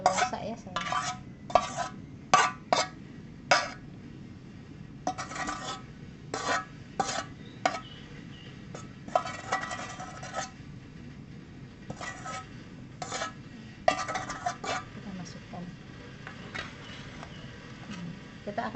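Liquid dark chocolate being stirred into cake batter in a large bowl, a steady run of sharp scraping and clinking strokes against the container over a soft low wash, close and fairly loud, with no talking.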